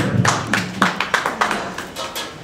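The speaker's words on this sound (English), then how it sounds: "if you all could give him a clap or a snap" A small audience at a poetry reading claps and snaps for the poet, with sparse, uneven individual hand claps close by, tapering off toward the end.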